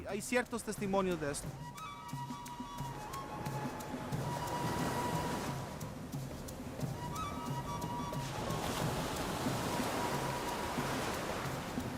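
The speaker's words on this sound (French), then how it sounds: "Une nouvelle fois, la pluie s'abat en trombe sur la selva." Steady heavy rainfall hissing continuously in a Central American rainforest, with a few brief tonal sounds drifting over the constant downpour.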